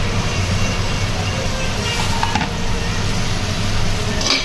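Oyster curry being stirred in a cooking pot, a steady close scraping and bubbling hiss with a few brief clinks, loud and continuous.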